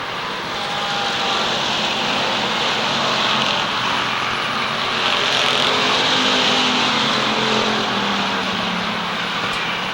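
Race cars roar continuously down the back straightaway of the Waterford Speedbowl oval in 1991, a loud, steady engine drone that swells slightly midway as the pack passes close by.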